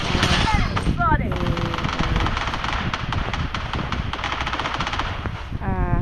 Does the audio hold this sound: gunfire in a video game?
yes